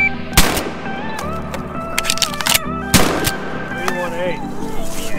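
A Mossberg shotgun fires two loud, sharp blasts at a range, about two and a half seconds apart, each with a ringing tail. Outdoor background noise and faint voices surround the shots.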